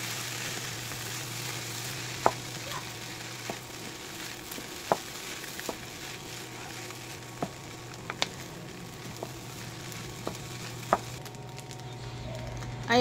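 Fried rice sizzles steadily in a pan with a soft continuous frying hiss, marked by scattered light clicks and taps of a utensil against the pan, fairly quiet throughout.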